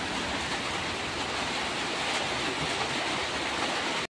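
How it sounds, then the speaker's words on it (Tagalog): Rain falls outside in a steady, dense hiss with no breaks, fairly soft and continuous until it cuts off abruptly at the end, with no voices. "naabutan tayo ng ulan"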